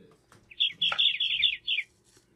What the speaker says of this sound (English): And we're getting all the squawks from the birds.